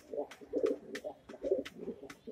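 Pigeons coo in a loft, a few soft, throaty rolling coos repeating close by over a couple of seconds, quiet and without speech.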